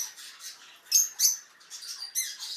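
Squawking calls from farm poultry at a small animal park that keeps peacocks, ducks, geese and pheasants: a few short, sharp cries in quick succession at moderate distance, with no talking.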